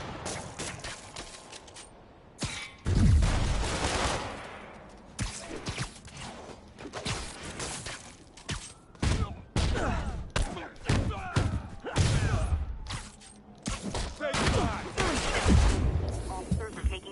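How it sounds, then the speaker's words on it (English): Sniper gunfire and chaotic action in the Spider-Man video game in New York, with irregular loud bursts, thumps and impacts amid fighting noise, and voices talking at times. "Officers are taking sniper fire."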